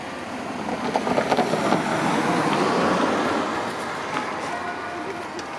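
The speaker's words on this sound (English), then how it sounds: "we can see a train arriving at Grimsby Town Station" A special train rolls into Grimsby Town Station at the Garden Street level crossing, a broad rumbling roar with faint clanks and road traffic around it, heard from nearby.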